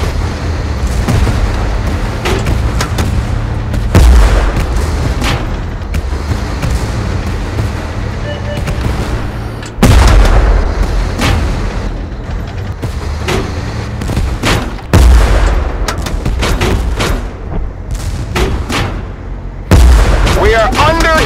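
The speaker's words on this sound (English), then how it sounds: "We are under bombardment." Artillery bombardment in the Tank Force video game: heavy booms land about every five seconds over a constant rumble of battle noise and gunfire.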